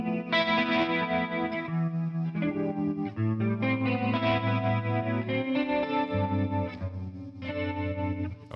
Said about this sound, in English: Chorus makes things brighter.